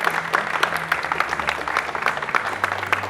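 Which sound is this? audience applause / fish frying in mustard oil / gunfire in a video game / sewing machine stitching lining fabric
audience applause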